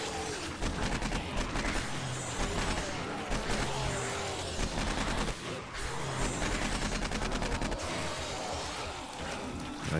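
An AK-47 fires in the zombie survival game 7 Days to Die during a horde wave, with dense rapid bursts of automatic fire, heavy booms and short pauses between volleys, loud and close throughout.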